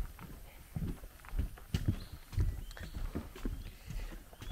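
Footsteps thud hollowly along a long wooden bridge in Nam Cat Tien forest, a quick irregular series of close, fairly loud steps over a noisy outdoor background.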